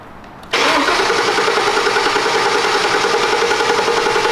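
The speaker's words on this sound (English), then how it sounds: "Let's get this thing fired up." Edelbrock-supercharged car engine cranking on its first start, a quiet lead-in followed by an abrupt loud, sustained, rapid whirring starter crank that continues steadily, close and with no talk.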